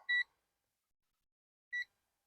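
A digital multimeter emits two short, clean electronic beeps about a second and a half apart against silence, during an RV electrical system voltage check.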